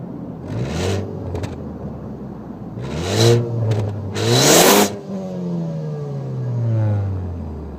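A 2013 Ford Focus ST turbo engine is revved up several times in bursts. Each rise climbs to a loud whining peak and then falls back to a steady idle rumble. No one speaks.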